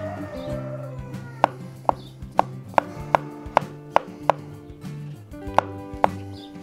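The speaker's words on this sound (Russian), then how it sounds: "Шампиньоны режем квадратиками," A knife chops champignon mushrooms into small cubes on a board, about a dozen sharp, evenly paced knocks, with a short pause before the last few strikes over background kitchen hum and music.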